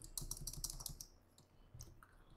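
Quick keystrokes on a computer keyboard, a rapid cluster of crisp clicks followed by a few scattered taps, close and fairly quiet with no talking.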